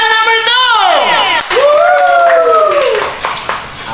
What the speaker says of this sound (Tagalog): Apat ang pumalakpak.